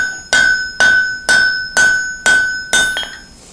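A hammer ringing on a steel drift for axe and hammer heads, six evenly spaced, loud metallic strikes, each with a bright, sustained ring that decays before the next blow.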